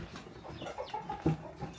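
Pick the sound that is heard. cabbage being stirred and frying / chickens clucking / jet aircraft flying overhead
chickens clucking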